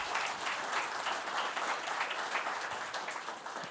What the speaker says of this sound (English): let's give a round of applause to Marvin